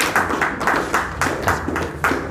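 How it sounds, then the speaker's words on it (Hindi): Audience applause for someone speaker at a gathering, a dense and steady clapping of many hands, close and fairly loud throughout, with no talk over it. "बहुत जोरदार तालियां बहन जी के लिए"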